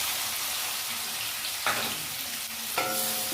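Chopped onion frying in a pan with green chilli, cumin and carajwain seeds, a steady close sizzle with a couple of short scraping stirs, no talking.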